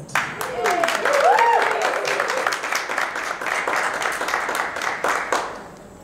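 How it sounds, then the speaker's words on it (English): A crowd of family and guests applauding a team at a tombstone unveiling, with dense, sustained clapping that swells early and holds steady. A voice calls out over it briefly before the clapping thins near the end. "let's give them a big round of applause"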